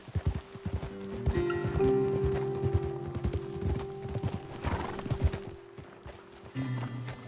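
Horses clip-clop along in a Western video game, a steady rhythm of hooves on hard ground with tack jingling and an occasional snort, moderately close over a faint ambient bed.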